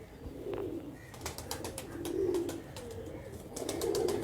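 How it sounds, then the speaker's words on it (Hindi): Pigeons cooing at a Karachi loft of high-flying birds, a few soft rolling coos repeating in a slow rhythm, close and moderately loud over a light outdoor background. "ये है वो कबूतर।"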